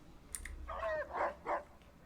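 Rex, a robot dog in a video game, lets out a few quick barks, three short electronic-tinged yaps in a row, fairly faint over a quiet background with a small click before them.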